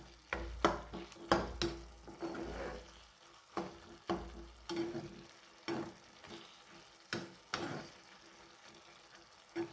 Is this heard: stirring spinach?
yes